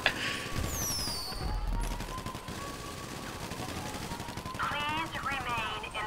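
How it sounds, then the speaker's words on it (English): Repeated firing of a firebolt launcher in a multiplayer video game, a rapid burst of explosive shots under steady game noise with people talking over it throughout. "he's using a firebolt launcher"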